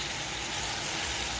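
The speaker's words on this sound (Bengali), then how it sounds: "এবারে আমি লাল করে ভেজে নেব চিংড়ি মাছটাকে।" Shrimp frying in hot oil in a wok, giving a steady, close, even sizzle that holds without a break and with no talk over it.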